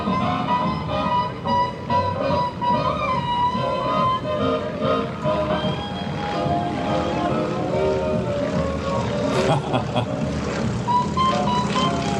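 Stearman biplane passing overhead at the Blue Angels Homecoming Airshow, its steady loud engine drone continuous throughout with a crowd and announcer-style talk mixed underneath.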